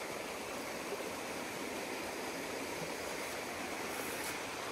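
Water rushes over rapids in the Bom Jesus creek on rural land in Brazil, an even, continuous broadband roar heard from a short distance, soft and unchanging, with no voices.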